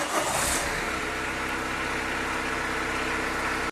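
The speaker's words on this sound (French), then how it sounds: "on va démarrer le moteur pendant au moins 10 secondes pour que l'huile monte dans la cartouche" Car engine turning over and settling into a steady idle during an oil change, with a continuous low rumble running loud and close for the whole stretch.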